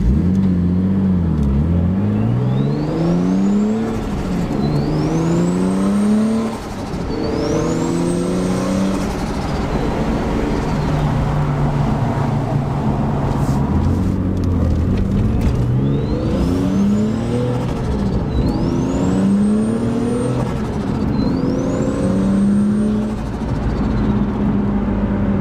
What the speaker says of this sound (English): A lot of turbo noise for sure